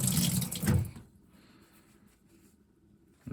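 Warm water runs from a tap onto paper towels for hatching tortoise eggs, a close splashing gush that lasts about a second and then cuts off, leaving near silence.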